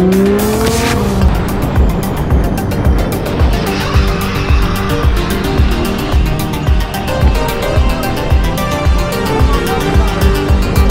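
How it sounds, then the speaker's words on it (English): A loud car engine roars and revs continuously with rhythmic pulsing, tires squealing briefly at the start, close and dominant with no talk. "Nice car. It sounds beautiful."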